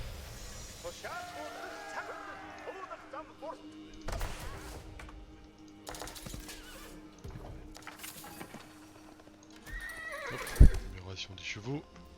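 Video game horses give several whinnies and neighs among hoof clops, thuds and other game effects, fairly soft and scattered, with a sharp thump near the end.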